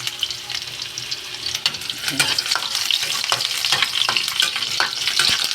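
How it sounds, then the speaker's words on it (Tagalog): Vegetables for homemade pakbet drop into hot boiling cooking oil and fry with loud crackling sizzle, while a utensil stirs and scrapes the pan in busy, uneven bursts, close and steady with no talk. "Kumulo na yung matika guys, ilagay natin."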